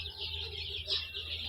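Chickens on a mixed duck and chicken farm, soft clucking and chirping from nearby birds amid a steady background hum, brief and fairly quiet.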